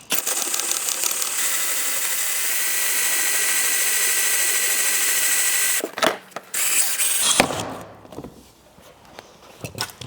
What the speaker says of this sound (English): I'm just going to drill the head off and then I'll take the rest of it out after